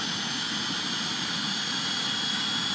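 A model Lama helicopter turbine engine starting up, a steady high-pitched whine with a rushing roar, continuous and fairly close, no voices.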